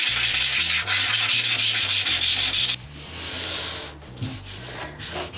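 Loud, rough scrubbing of a hard cleaning stone against a bathtub stain in long strokes, continuous and close, with brief pauses and a low hum beneath.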